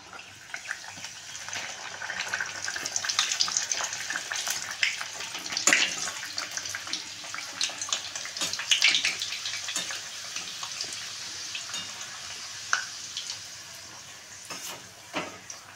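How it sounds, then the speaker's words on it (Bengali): Luchi, puffed Bengali flatbread, fried one at a time in hot oil for a home-cooked meal with spicy aloo dum; a steady crackling sizzle with bubbling bursts runs throughout, close and moderately loud, with no talking. "লুচিটা আমরা এবার একে একে ভেজে নেব।"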